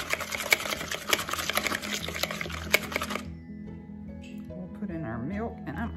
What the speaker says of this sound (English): We'll whisk our egg.